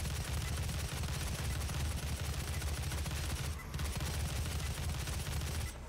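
Rapid sustained gunfire in the Doom 2016 video game, a dense unbroken barrage of shots that runs loud and steady for several seconds with only a brief dip.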